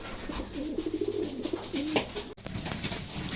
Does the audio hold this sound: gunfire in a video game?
no